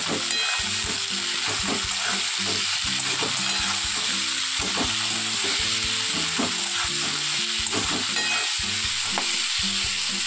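Dal sizzles and crackles steadily as it fries in a pan, with repeated rhythmic stirring scrapes over a constant hiss, close and fairly loud throughout.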